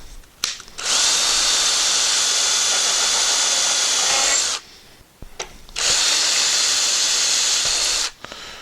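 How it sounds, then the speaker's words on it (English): A power drill with a 3/16 bit bores through a Kreg cabinet hardware jig in two long, loud whirring bursts of several seconds each, separated by a short pause with small clicks and handling noise. "And we're just going to drill through."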